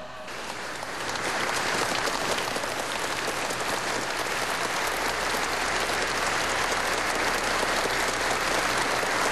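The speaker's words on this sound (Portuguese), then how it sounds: "Quem estava presente não conteve a emoção e aplaudiu." Sustained, dense applause from mourners in a cathedral as an archbishop's body arrives in Campinas, swelling quickly and holding loud and even to the end.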